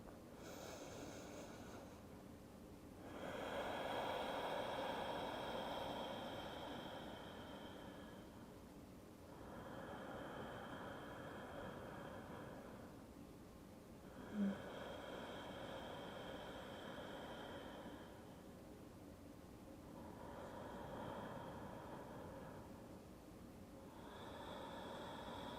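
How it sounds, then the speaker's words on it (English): Slow, deep breaths during a root chakra yoga practice, rising and falling in long cycles of about five seconds each: a soft, airy rush that swells and fades, close and steady, with no talking. "Take about 5 of those circular red"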